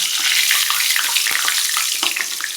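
Eggplant slices frying in hot oil, a dense, close, steady sizzle and crackle throughout with a few light clicks, no voices.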